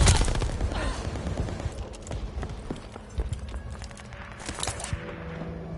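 Rapid gunfire from Call of Duty: Vanguard, a stream of sharp shots crackling continuously at close range amid dense game noise and impacts, with no talk over it.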